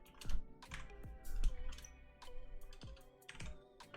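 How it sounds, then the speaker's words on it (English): Fingers roll quickly across a computer keyboard, producing a close, loud flurry of uneven clacks and key taps in bursts that continue through the whole stretch, with no talking. "I'm just going to roll my fingers across the keyboard"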